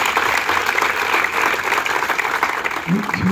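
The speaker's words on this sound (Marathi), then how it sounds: "जोरदार सगळे टाळ्या वाजवा" A loud, steady wave of audience applause at a Tiger Academy results event in Pune, dense clapping sustained throughout with a brief voice near the end.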